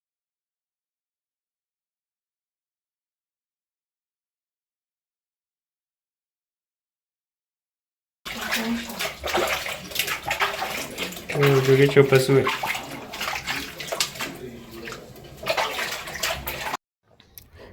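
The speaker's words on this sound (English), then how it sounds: "I add vinegar in my water, then I rinse all the compartments and the shelves." Vinegar water splashing as fridge compartments and shelves are rinsed, a continuous running, sloshing wash that starts after a long silent stretch, with a voice speaking briefly over it.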